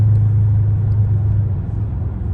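A straight-piped 345 Hemi Dodge Charger R/T rumbles along the highway in regular drive mode, a loud, deep, steady engine drone heard from inside the car with no voices.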